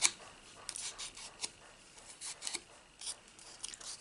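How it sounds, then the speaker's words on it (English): A bone folder scraping and stretching folded paper butterfly wings, with soft, close rasping strokes in short irregular bursts over quiet background. "with your bone folder stretch it downwards"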